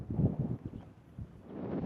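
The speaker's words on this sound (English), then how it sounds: "It was windy because right next to the ocean" Wind blows beside the ocean at Maishima in Osaka, a faint, low rumbling buffet on the microphone that comes in soft uneven pulses.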